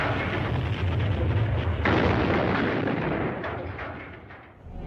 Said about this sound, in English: ordered the cannons of the citadel to be aimed at Al-Azhar Mosque and anything else near it